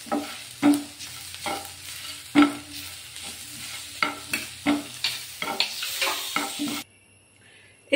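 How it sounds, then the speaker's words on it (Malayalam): Tamarind and jaggery being sautéed in a pan for brinjal chutney, with repeated stirring scrapes and a steady sizzle over about seven seconds, then near silence at the end. "ഇനി നമുക്ക് അതിലേക്ക് കുറച്ച് പുളി ഇട്ട് കൊടുക്കാം. ഇത്രയൊരു ചെറിയ ചെറുനാരങ്ങ വലുപ്പത്തിലുള്ള പുളി, പിന്നെ ഒരു ചെറിയ 2 പീസ് ശർക്കര. ഇതും കൂടി നമുക്കൊന്ന് വഴറ്റി എടുക്കാം."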